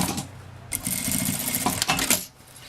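Sewing machine stitching a vintage suitcase, loud and close: a steady whirring run of rapid stitches about two seconds long that stops abruptly. No one speaks.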